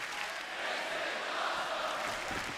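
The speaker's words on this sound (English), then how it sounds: "And the WWE fans in Brooklyn love it." A packed WWE wrestling crowd at Barclays Center in Brooklyn cheers in a continuous, distant wash of massed voices and applause, fairly faint and steady throughout.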